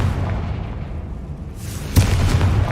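In Hogwarts Legacy, a Confringo blasting spell explodes with a sudden loud boom over a low rumbling background, followed by a lingering crackle.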